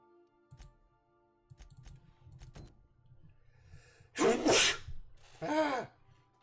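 A character sneezes twice in The Outer Worlds video game: a loud, sharp sneeze followed shortly by a second one, close up, after a stretch of quiet game ambience and faint thuds.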